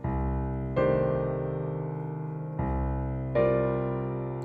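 Two five-note piano voicings from a harmonized minor scale, two notes in the left hand and three in the right, sound side by side, then repeat; four sustained chords ring out clearly with no talk.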